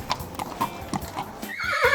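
A horse's hooves clip-clop in a quick, even rhythm, close and clear, followed by a loud, shrill neigh at the end.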